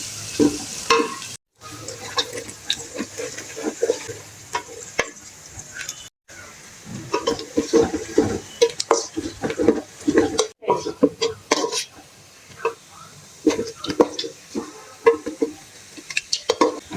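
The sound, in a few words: onions frying and being stirred until golden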